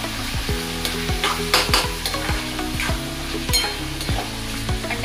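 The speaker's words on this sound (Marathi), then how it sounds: "त्यामध्ये आता मी थोडीशी कोथिंबीर टाकणार आहे आणि त्याला पण मला व्यवस्थित परतून घेतलं" Onion, tomato and coriander sizzle and fry in a pan for egg bhurji while a spatula stirs and scrapes in repeated strokes, close and clear.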